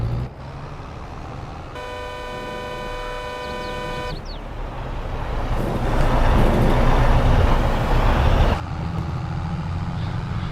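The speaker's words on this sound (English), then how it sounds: "I know what a Kenworth sounds like" A Kenworth truck in Farming Simulator 22 drives along with a steady low engine rumble, interrupted by a long, sustained horn blast near the start and a swelling louder pass in the middle before easing back.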